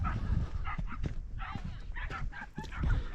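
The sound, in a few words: dogs barking on the Pennine Way moor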